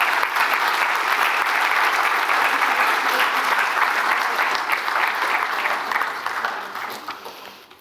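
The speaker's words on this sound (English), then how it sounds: "Let's give her a big clap." Warm, sustained applause from a conference audience at a cardiac arrest symposium, many hands clapping evenly before fading out toward the end.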